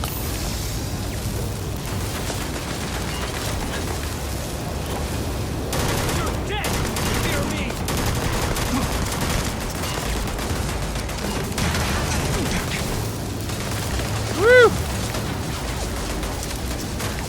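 Rapid bursts of gunfire from a weapon in the sci-fi game Starfield crackle over steady background game noise and music, with one sharp ringing shot near the end.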